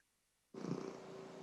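A cat purring close up, a soft continuous rumbling that starts abruptly after a short silence and holds steady to the end.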